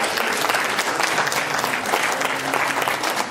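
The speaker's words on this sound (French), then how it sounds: "On peut l'applaudir." Audience applause at a gathering welcoming Senegalese representatives, a dense continuous clapping from a crowd, loud and steady throughout.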